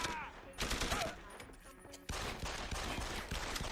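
Automatic gunfire in the game Deus Ex: Human Revolution, fired blind from cover, comes as dense bursts of shots with a sharp jump in loudness midway, while a faint voice talks underneath.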